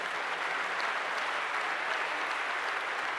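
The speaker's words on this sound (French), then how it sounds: "Bruno Le Maire, on peut l'applaudir s'il vous plaît." Audience applause at a political plenary session, a continuous, even wash of many hands clapping with no breaks.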